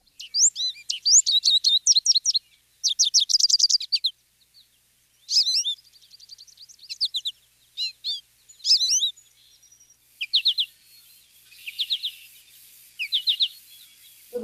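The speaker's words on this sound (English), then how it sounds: "their song has a very familiar cadence, in that potato chip rhythm that it has is helpful in identifying the goldfinch's song" American goldfinch song: bright, high chirpy phrases in a quick, bouncy cadence, repeated in clusters with short pauses between, clear and close with no talking.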